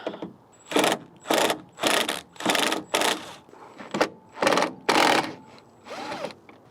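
Screws being removed from a 2017-2020 Ford F-250 truck tail light with a ratchet, eight close, regular bursts of rapid mechanical clicking separated by short pauses, with no talking.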